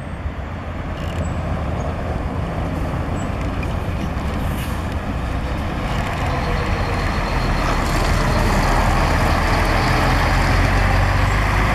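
Princesa do Norte intercity coach, car 5246 on the Brasília–Curitiba route, pulling out of Brasília's bus station: a steady, loud diesel engine rumble that builds slightly as it moves off, with a continuous wash of station and traffic noise.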